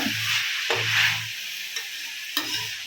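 Ginger garlic paste sautés in a pan with a bright sizzle, and a spoon stirs it in scraping strokes. Two or three sharp clinks from the pan sound close by.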